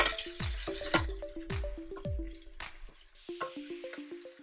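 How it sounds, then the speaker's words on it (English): Diced tomato and onions stirred in a hot pan for Dominican saltfish sancoche, with a series of close wet squishes and soft scraping strokes over a faint sizzle. "So you want to cook your tomatoes, not overcook them, you just want to stir it in there with the onions."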